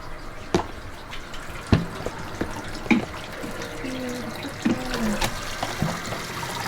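Running water fills a sink while a tie-dyed spiral tee is rinsed, a steady close gush broken by scattered drips, splashes and soft clunks.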